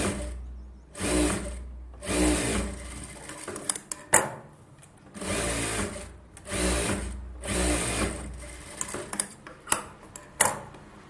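A sewing machine stitching a folded 3/4-inch hem of blouse fabric in short bursts of rapid whirring separated by pauses, with clicks and handling noises between runs, close and loud, no talking.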